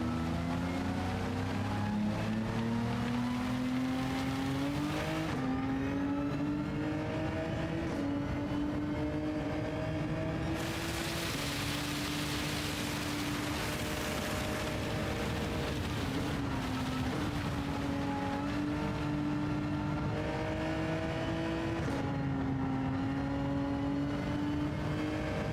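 A race car in Gran Turismo 7 drives on a wet track, its engine droning loud and steady with pitch rising and falling through gear changes, and a burst of spray or tyre hiss partway through.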